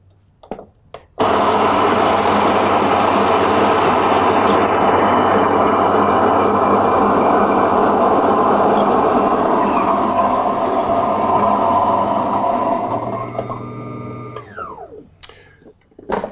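An electric coffee grinder runs on a fairly coarse setting, grinding beans for a Chemex pour-over with a loud, steady whirring motor roar that starts abruptly, holds for about thirteen seconds, then winds down and stops.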